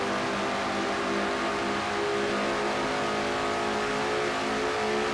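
Stock cars race in a NASCAR-style video game, a DuPont Chevy running on the bumper of a McDonald's Ford, steady loud engine drone with layered whining tones, no voices over it.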